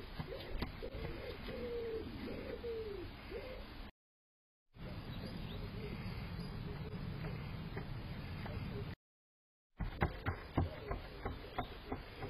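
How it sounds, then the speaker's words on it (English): Pigeons coo repeatedly at a garden nursery, a series of close, soft rolling calls early on, then ambient outdoor noise with faint rustling and occasional short bursts. "have a look here how fearless these pigeons are at the nurseries"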